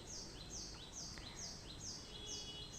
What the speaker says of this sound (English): maybe you can tune into the very gentle sound, the song of the birds.